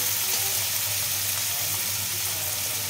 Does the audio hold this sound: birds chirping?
no